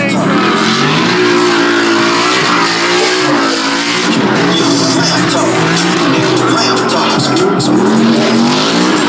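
A Ford Mustang at a car meet revs hard with squealing tires, a loud, continuous engine roar with rising and falling pitch that fills the whole stretch.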